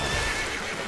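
A horse neighs briefly in Dragon Quest XI S, a short whinny mixed with hoof clip-clops, moderately quiet against a busy game background.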